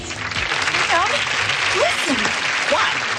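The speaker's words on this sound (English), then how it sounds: "they're applauding." A TV show audience applauds in a steady continuous patter, heard under overlapping speech from people talking.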